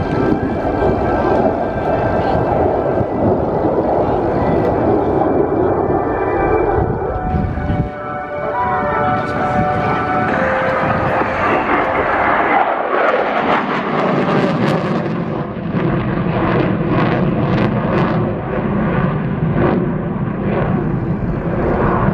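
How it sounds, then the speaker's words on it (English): Zeus display jet at RIAT Air Tattoo making a flyby with a wing roll, a loud continuous roar that shifts in pitch as it passes overhead and then recedes, with no talk. "Flyby from Zeus while saluting with a distinct wing roll."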